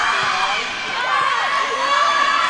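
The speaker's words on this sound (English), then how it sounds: "And the Buccaneers crowd is fired up." Buccaneers fans cheering at a women's college volleyball match, a bright sustained roar of shouting and whooping from a packed gym, loud and continuous throughout.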